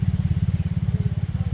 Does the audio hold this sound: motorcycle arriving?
yes